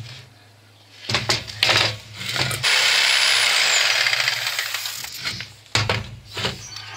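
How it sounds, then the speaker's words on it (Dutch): Hand sawing into wood while making a woodworking workbench, with a sustained rasping cut in the middle flanked by knocks and clatter of handling the workpiece, close and fairly loud. "En dan gaan we dat gewoon proberen te zagen."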